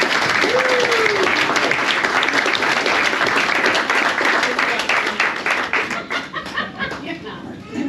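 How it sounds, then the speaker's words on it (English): A room of wedding guests gives the bridesmaids a long, loud round of applause that fills the space and thins out toward the end, with voices mixed in underneath. "So can we have a round of applause for the bridesmaids, please?"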